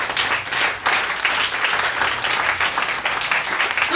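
Church congregation applauding and cheering in praise of the Lord, a dense, loud burst of clapping that swells and holds throughout.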